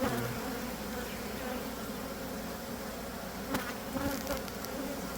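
Honeybees pour out of a hive during an inspection, making a dense, loud, continuous buzz close by, with a few faint knocks partway through.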